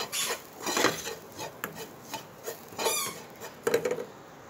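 A spoon scraping and stirring salt, garam masala and coriander powder in a pan, with close, rasping strokes in an uneven rhythm and occasional metallic taps, no talking.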